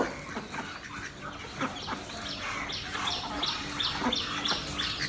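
Pet chickens and ducks pecking at scattered feed in a yard, with soft clucks and chirping calls repeating throughout at close range, no talk.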